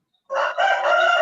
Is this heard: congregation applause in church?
no